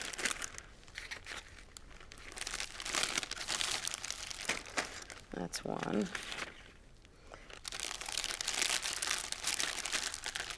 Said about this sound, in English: I'm going to put it right in this plastic bag.